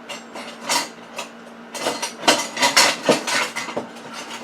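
Metal cutlery and a spoon clink and rattle as they are picked up in a kitchen while pies are being made, a run of close, bright taps and jangles that grows busier toward the end.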